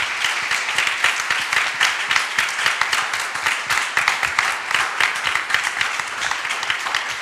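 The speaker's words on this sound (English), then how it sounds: "I think he deserves a big applause." A conference audience at a Q&A session gives sustained, loud applause, dense clapping that carries evenly through the whole stretch with no talking.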